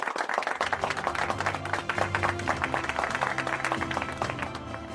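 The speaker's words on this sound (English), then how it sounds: "Let's give her a warm round of applause." A conference audience gives a speaker a round of applause, with many hands clapping in a dense, continuous patter that holds steady for five seconds at moderate distance, with faint tonal sounds beneath.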